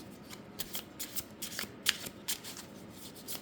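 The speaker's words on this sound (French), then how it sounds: "Je vais tirer une dernière carte." Oracle cards of the seven sacred flames being shuffled and drawn by hand, giving soft, quiet riffling and papery flicks in irregular bursts, close up with no voice.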